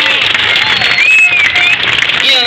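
An audience claps steadily at the Shipka Rally 2015 awards ceremony, a dense continuous patter of applause with a few voices rising faintly over it.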